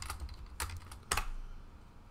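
Keys clatter on a computer keyboard as a password is typed, a few quick soft taps in short bursts, close and quiet, with no talk.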